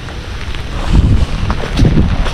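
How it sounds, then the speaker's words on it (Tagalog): Strong typhoon wind roaring and buffeting the microphone beside a boulevard, with surging gusts rising and falling in loud, rumbling waves and no one speaking. "Lakas ng hangin kasi mga buddy."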